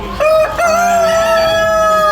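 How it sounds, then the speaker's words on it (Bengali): A rooster crows loudly and close by at a rural Australian country fair, a long drawn-out call with a brief cluck at the start, ringing out alone. "মুরগিগুলো ডাকছে"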